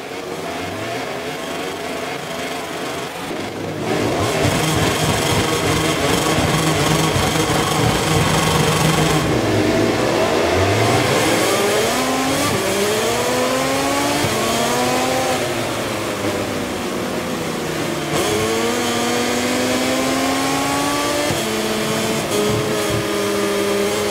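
Motorcycle engines revving together on the grid before a wet race at Silverstone in MotoGP 24, a loud sustained roar with pitches rising and falling as riders blip the throttle.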